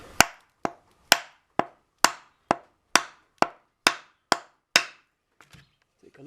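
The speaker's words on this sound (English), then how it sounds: "giving this thing a couple of good taps on the back of the handle should sort it out" Eleven sharp, evenly spaced knocks ring out as a decent-sized wooden log taps the back of a hammer handle, each crisp close strike decaying quickly, followed by a few faint clicks and rustles.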